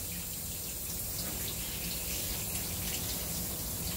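Running water rinsing a dog during a bath, a steady broadband splashing hiss from a tap or sprayer, continuous and fairly close with no other sounds.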